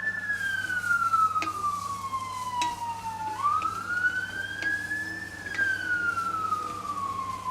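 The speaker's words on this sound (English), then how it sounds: "I think that's a fire truck." A fire truck siren wailing outside, a steady rising and falling tone sweeping slowly down then back up, fairly distant over a low engine hum, with faint talk in the background.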